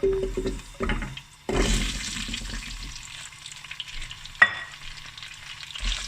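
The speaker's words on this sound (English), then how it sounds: "The oil is hot now. I'm going to throw in the paneer." Paneer hits hot olive oil with bursts of loud sizzling and spatter, broken by clattering pan noises and brief pauses, close by with no voices.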